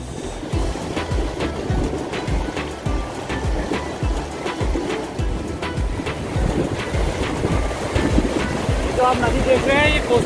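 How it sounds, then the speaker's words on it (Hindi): The Kosi river flowing near Ramnagar gives a broad, steady rushing wash with wind buffeting the microphone, continuous throughout while people talk over it. "कोसी नदी"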